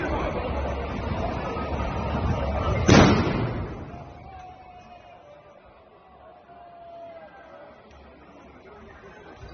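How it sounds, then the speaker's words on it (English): One sharp blast from an explosive bursts out in a French street amid a murmuring crowd, followed by a decaying rumble and scattered background noise. "Now, more explosives and fire in the streets of France."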